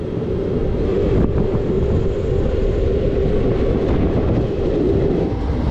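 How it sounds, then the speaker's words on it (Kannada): A passenger train pulling out of Gauribidanur railway station, a loud, steady low rumble of wheels and carriages with a faint rattle on top, continuous and close throughout. "ಈಗ ನಮ್ಮ train Gauribidanur railway station departure ಆಗ್ತದೆ."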